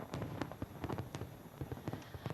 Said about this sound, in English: fireworks burst overhead